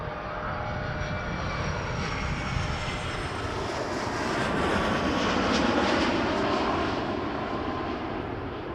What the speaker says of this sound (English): Morningstar for FedEx 757. Coming in from Vancouver, freighter.